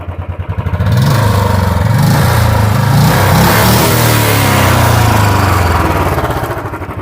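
A 2022 Royal Enfield Standard 350 BS6 motorcycle with its stock exhaust revs hard, a loud, close, steady engine roar held for several seconds before easing back, with no voices.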